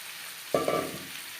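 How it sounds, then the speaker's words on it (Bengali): Chopped tomato dropped into onions frying for a fish curry, a sudden short burst of sizzling that flares twice in quick succession and then fades against a quiet background, with no talk. "পেঁয়াজ লালচে করে ভেজে নেওয়ার পর দিয়ে দেবো টমেটো।"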